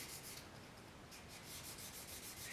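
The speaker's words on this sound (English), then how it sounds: "The neck got the same leveling treatment with 800 grit sandpaper." Fine 800-grit sandpaper rubs back and forth on a bass guitar neck in quick, soft strokes, a steady, gritty hiss with a regular rhythm and no talking.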